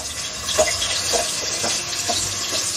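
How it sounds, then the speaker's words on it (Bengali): Bottle gourd pieces frying in hot oil in a saucepan while a vegetable chicken khichuri is cooked, giving a steady soft sizzle with a few brief stirring scrapes and no talk. "দিয়ে দিচ্ছি লাউ"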